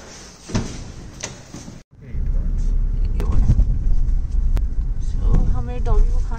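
A car being driven out toward a gate, heard from inside. After a brief cut, a steady low road and engine rumble builds and carries on, with a few knocks and thumps on top.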